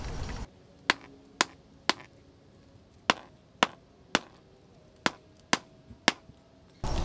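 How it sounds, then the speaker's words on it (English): A sledgehammer strikes a cut section of a wall again and again during DIY electrical service work, about ten sharp, loud, close blows at an uneven pace with short pauses between. "Now I'm gonna try a sledgehammer at this first."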